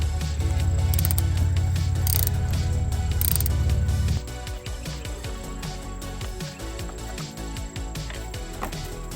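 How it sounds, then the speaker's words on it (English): A ratchet wrench with a 13 mm socket loosening a car's oil drain plug, a steady fast clicking at first, then slower, uneven ratchet clicks, close and alone. "You'll need a 13 millimeter socket."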